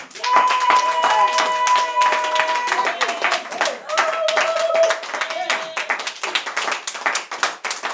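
A church congregation claps loudly and steadily to acclaim the Lord during worship, the dense rhythmic clapping running throughout alongside sustained sung or instrumental tones and voices.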